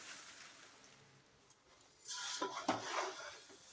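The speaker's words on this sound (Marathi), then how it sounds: "आता हे चिरमुरे थोडे थोडे करून मिक्स करायचे आहेत आणि हलवून घ्यायचे आहेत" Puffed rice chiwda mix is tossed in a pan, giving faint quiet handling at first, then a louder burst of rustling, rattling grains and utensil scrapes close by. No one speaks.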